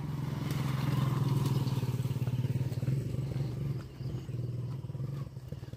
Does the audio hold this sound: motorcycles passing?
yes